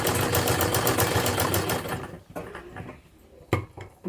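A sewing machine runs a wavy stitch on a mori design, a loud, rapid mechanical chatter for about two seconds, then slowing into scattered clicks and a brief final burst.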